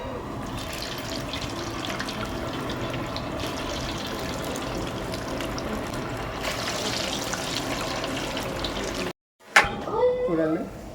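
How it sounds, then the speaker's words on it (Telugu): Paneer pieces go into hot oil and fry with a steady, dense hiss that runs for several seconds before cutting off abruptly. A voice talks over it. "ఆయిల్ అయితే మరిగింది ఫ్రెండ్స్. ఇప్పుడు ఈ పన్నీర్ ముక్కలు అయితే మనం వేసుకుందాం."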